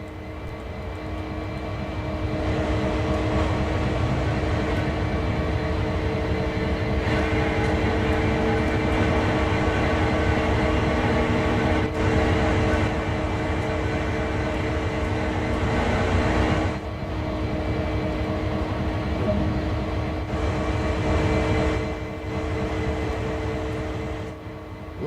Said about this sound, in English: Using the rotation control, turn the table and locomotive to the indicated track.